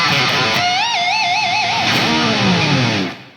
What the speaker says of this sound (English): the first open string lick sounds like this